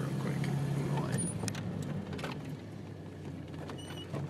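A 1982 BMW 325 driving through a U-turn, a low engine hum with some creaks and mechanical rattles, moderately quiet and close.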